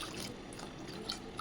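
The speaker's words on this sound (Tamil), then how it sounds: "இப்போ தண்ணி சேர்த்துக்கலாம்." Water pours into a pot of lentils being cooked for sambar, a steady soft splashing and trickling that runs without a break at low volume.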